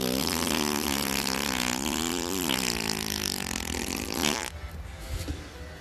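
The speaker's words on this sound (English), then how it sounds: "releases all of their gas in one gigantic doggy fart." A cartoon-style fart sound effect, a loud, long, wavering blat with a rising and falling buzz that cuts off abruptly, followed by a brief quieter sputter.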